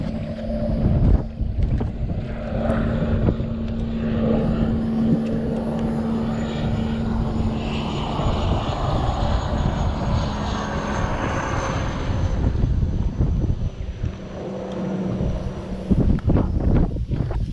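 A turbocharged Sea-Doo RXP-X jet ski with a Stage 1 setup approaches over the water, its engine a loud continuous drone with wind buffeting the microphone.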